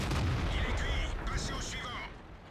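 World of Tanks gameplay with heavy tank cannon fire, a loud deep boom at the start that rolls off into rumbling echo, with fainter game effects and tones layered over it.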